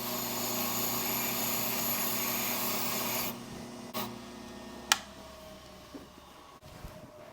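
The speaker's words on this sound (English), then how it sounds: "Oh, that's a nice machine. ITL 9700A. Let's clean the key up." An ITL 9700A key machine whirs steadily while cleaning up a freshly cut key, then stops partway through. A few sharp clicks and light handling knocks follow in the quieter stretch, with no talking.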